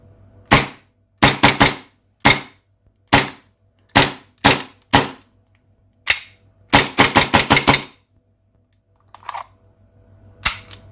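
A WE-Tech 1911 gas pistol fires about fifteen sharp, loud cracks, some single and some in rapid clusters, with brief silences between them and no talking.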